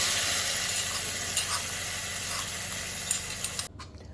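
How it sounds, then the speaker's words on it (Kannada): Loud, steady sizzle of hot oil crackling as a tempering with leaves hits a citron curry, with a few sharp pops, then it suddenly drops away near the end. "ಈಗ ಈ ಒಗ್ಗರಣೆಯನ್ನು ಇದಕ್ಕೆ ಸೇರಿಸ್ಕೊಂಡ್ರೆ ಆಯಿತು"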